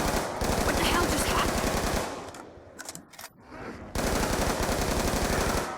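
Sustained automatic gunfire in a zombie video game, loud and continuous rapid bursts that break off briefly, with scattered shots, before resuming at full intensity.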